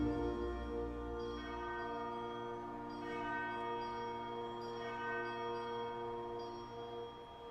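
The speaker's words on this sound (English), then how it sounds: "listen to the effect of the dawn bells" Dawn church bells ring out over Castel Sant'Angelo in Rome, several overlapping tones sustaining and blending into a continuous resonant hum, with soft new strikes every second or so and no voices.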